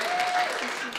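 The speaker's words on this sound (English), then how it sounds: "Oh, a little applause." A brief burst of applause from a small church congregation, a short patter of clapping with a faint voice underneath.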